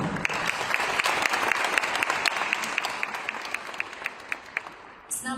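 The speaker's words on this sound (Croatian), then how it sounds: "molim da jednim velikim pljeskom pozdravite gradonačelnika grada Slavonskog Broda, gospodina Mirka Dusparu." Audience applause welcoming the mayor of Slavonski Brod at the opening of the Katarina fair, a full crowd clapping steadily with individual sharp claps, thinning out toward the end.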